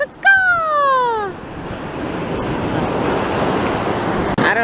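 Ocean surf washing onto a beach, a steady broad rush of breaking waves close by, opening with a brief harmonic cry like a seabird call over the water.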